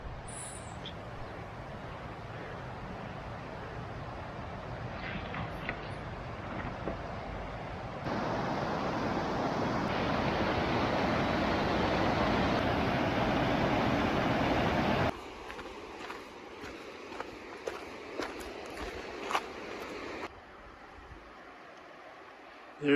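The Animas River flowing beside a train track: a steady, broad rushing of water heard close, swelling louder midway, then dropping to a fainter murmur with scattered clicks and small knocks.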